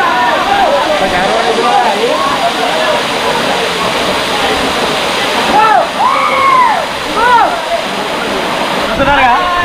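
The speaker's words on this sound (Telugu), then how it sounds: "ఇది వచ్చేసి గాంధారి వాటర్ ఫాల్" Gandhari waterfall near Medaram pours in a steady rushing roar, with people talking over it throughout and a few brief rising whistle-like calls near the middle.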